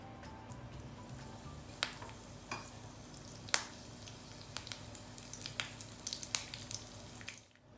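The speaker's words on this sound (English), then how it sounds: "Once the ghee is hot, add some curry leaves and let them splutter." Curry leaves splutter in hot ghee in a pan, scattered sharp pops and crackles over a soft sizzle, quiet and close, with a few louder spits.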